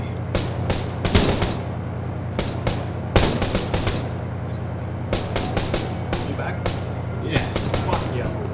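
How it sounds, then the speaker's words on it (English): Gunfire from AI-controlled enemies shooting at trees in a video game: irregular bursts of sharp shots, some in quick clusters, over a steady low hum that runs throughout. "They're all just shooting those trees."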